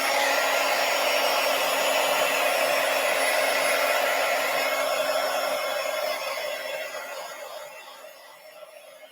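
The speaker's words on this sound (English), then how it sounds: "Now I'm just going to heat set this just a little bit." An embossing heat tool blows a steady, loud hot-air roar to heat-set embossing powder on a handmade stamped and stencilled birthday card, running continuously, then fading out near the end.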